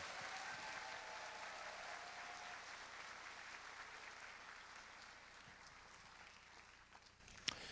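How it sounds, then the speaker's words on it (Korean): Audience at a jazz concert in Changwon applauding the performers, a soft, distant spread of many hands clapping that slowly fades, ending on one sharp knock. "다시 한번 박수 부탁드립니다."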